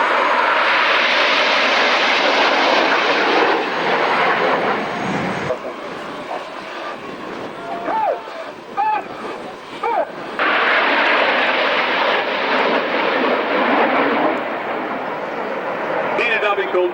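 Red Arrows display jets roar overhead at an air show, a loud broad rush that fades away and then swells again, with a commentator talking over the noise.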